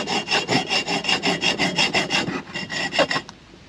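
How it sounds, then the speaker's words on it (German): A screw is sawn off inside a camper van, probably with a hand saw, giving steady back-and-forth rasping strokes, close and loud, about a dozen in a quick even rhythm before it stops. "Jetzt sägen wir die Schraube hier oben noch ab"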